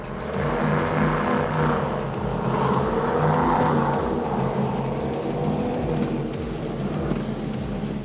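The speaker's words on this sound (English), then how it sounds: "Powered by Mercury Racing 700s." Mercury Racing 700 engines on a high-performance powerboat during a Key West poker run, a loud, steady, close roaring drone with deep rumbling throughout and no talk.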